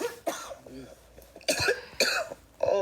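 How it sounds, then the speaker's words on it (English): A girl coughs in four harsh, close bursts spread over a few seconds, with softer breathy vocal sounds between them. "Oh, please don't cough through another video."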